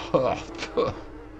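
A fly buzzes in the game Little Nightmares 2, two short close droning passes about half a second apart, loud and nasal, fading out afterward.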